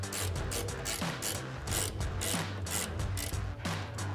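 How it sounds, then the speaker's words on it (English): A ratcheting wrench backs off the 14mm strut-top nuts on a 2016-2023 Toyota Tacoma, a rapid run of close clicking pawl ticks with short rubbing metallic bursts, steady and fairly loud, no voices. "Grab a 14mm socket, or we're using a ratcheting wrench here"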